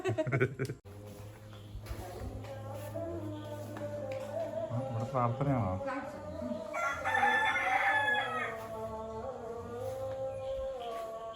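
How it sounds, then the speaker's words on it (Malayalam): Rooster at a village home in Kerala flapping its wings and crowing, a loud drawn-out call standing out over steady background noise and a low hum. "ഇപ്പത് ചിറകൊക്കെ കുടഞ്ഞിട്ട് കൂവാൻ വന്നപ്പോ ഞാൻ ഭയങ്കര പഞ്ച് സൗണ്ടാ പ്രതീക്ഷിച്ചത്"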